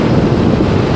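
Strong wind in central Kazakhstan buffeting the microphone, a loud, continuous low roar with no breaks, heard close and alone.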